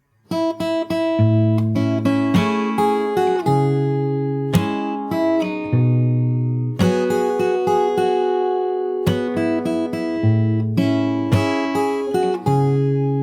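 Solo fingerstyle guitar plays the chorus of a song: bright plucked melody over sustained low bass notes in flowing phrases, close-miked and alone with no talking.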